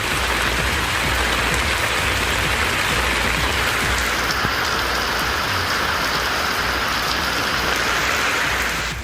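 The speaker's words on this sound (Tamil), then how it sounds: "கனமழை பெய்ததால் சாலையில் தாழ்வான பகுதிகளில் தண்ணீர் பெருக்கெடுத்து ஓடியது" Heavy rain pours down steadily on roads in a Tamil Nadu town, a loud, dense, continuous hiss of falling water with no voices, close and unbroken throughout.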